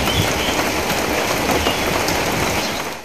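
Light drizzle falls in Feni, Bangladesh, a steady dense patter and hiss of fine raindrops on surfaces, continuous and fairly close, with no distinct thunderclap standing out.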